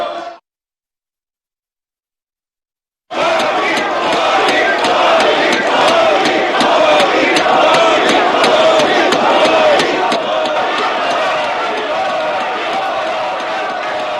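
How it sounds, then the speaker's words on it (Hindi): Members of India's parliament chant and thump desks in a loud, sustained crowd roar, with rhythmic vertical pounding beating through dense voices for about eleven seconds after a brief silence. "पूरा सदन मोदी मोदी के नारों से गूंज उठा"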